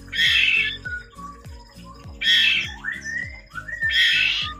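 A female magpie-robin chick calls in three harsh, raspy squawks spaced about two seconds apart, loud and close, with thin whistled notes and faint ticking between them.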